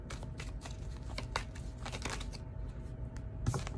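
Tarot cards are shuffled in quick, crisp riffling bursts, close and fairly quiet, with short pauses between the flurries and no voices.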